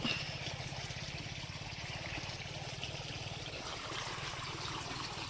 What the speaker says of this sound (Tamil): அங்கேருந்து பழுப்பில் தண்ணி வருது